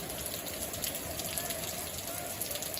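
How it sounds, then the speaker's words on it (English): Rain falling outdoors during a storm: a dense, even patter of drops on surfaces, steady and close, with faint background tones and no clear voices. "In the rain"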